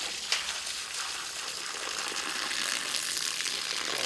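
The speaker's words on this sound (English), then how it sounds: "Let's get all the water out." Water is poured out of a jug in a continuous gushing, splashing stream that runs for several seconds, steady and fairly close.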